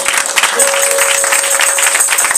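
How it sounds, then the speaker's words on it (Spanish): A church congregation at a revival service claps in a dense, steady burst of applause with no pauses, while a faint sustained tone hums underneath. "Hermanos, denle aplausos fuerte a Dios."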